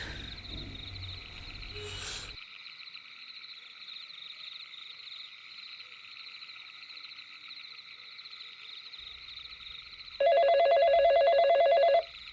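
A telephone is dialed and rings, a single steady electronic ring appearing near the end against a quiet night backdrop of insects and frogs.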